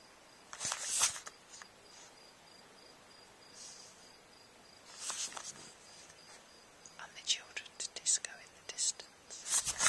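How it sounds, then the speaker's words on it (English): Crickets chirp in scattered bursts on a quiet, warm night by the sea at Golf del Sur, Tenerife, with a soft, faint wash of sea in the background between the chirps. "all you can hear is the crickets and the sea"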